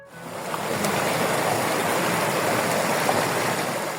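The Machangará river rushes past, a dense, steady roar of flowing water that swells in at the start and then holds loud and close, with no voices.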